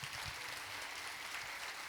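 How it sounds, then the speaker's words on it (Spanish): A church audience claps to welcome a pastor, a brief, fairly faint wash of steady applause heard from a distance. "recibámosle con un fuerte aplauso"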